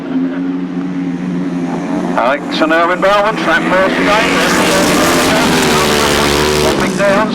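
Sidecar outfits race on a grasstrack, engines roaring and revving as they pull away from the start, loud and sustained beneath a commentator's voice.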